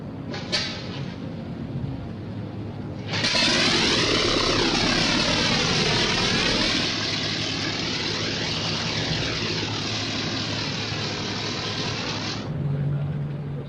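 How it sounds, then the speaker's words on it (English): Vintage propeller aircraft engine coughing and then catching at start-up, a brief sputter followed by a sudden loud, steady roar that holds for several seconds and then cuts down to a quieter rumble. "Switches off. Switches off. Petrol on. Petrol on. Throttle set. Throttle set. Contact. Contact."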